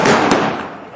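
Gunfire during a staged western gunfight show, a loud close burst with a quick second crack that fades into echoing reverb, heard alone.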